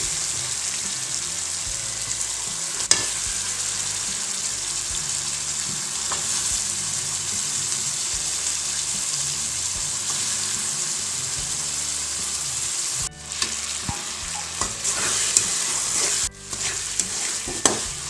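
Tomatoes and vegetables for sambar fry in a hot pan, a loud continuous sizzle with occasional stirring scrapes and brief breaks near the end, heard up close without any talking.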